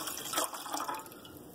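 Water from a cup poured into a kitchen pot to make a vinegar pickling brine for eggs, a short splashing trickle lasting about a second, close and fairly quiet.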